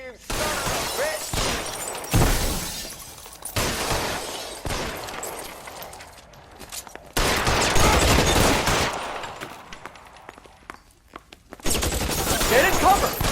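Rapid gunfire in L.A. Noire comes in loud bursts and volleys with gaps between them. Shattering impacts mix into the firing, and shouted voices break in between the bursts.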